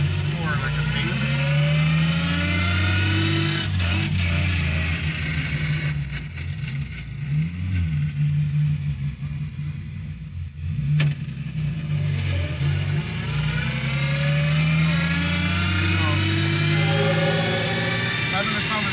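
An E36 BMW M3 with an S54 engine drives and revs loudly, heard from inside the cabin as a raw, rising and falling engine roar with a brief lull mid-way, while someone talks under it.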